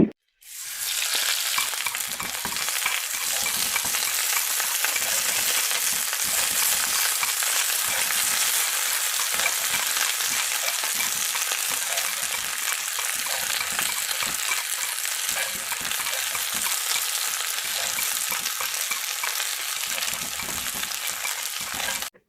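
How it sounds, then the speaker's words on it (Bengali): Onions and green chilies fry in the same pan the meat was fried in, with salt and turmeric added, giving a steady, loud, continuous sizzle that runs unbroken for the full length with no voices. "মাংসগুলি যে প্যানে ভেজেছিলাম সেখানে পেঁয়াজ আর কাঁচা মরিচগুলো ভেজে নেব"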